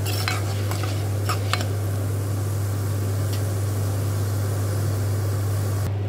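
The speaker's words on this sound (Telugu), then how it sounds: "ఈ ధనియాలను కూడా 2 నిమిషాలు వేయించుకుని" Coriander seeds roast in a pan on the stove, a steady dry sizzle with occasional scraping stirs and light clinks of the spatula, under a constant low hum, with no talking.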